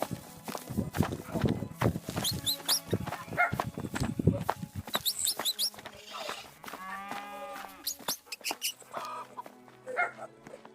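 Cattle moo repeatedly in a Roblox game amid busy game sound effects, with scattered clicks and footstep-like taps; a voice talks at moments.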